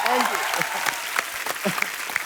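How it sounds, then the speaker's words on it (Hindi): Studio audience on an Indian TV comedy talk show bursts into loud, sustained applause, a dense wash of clapping with some voices mixed in. "जोरदार तालियां सिद्धू साहब के लिए।"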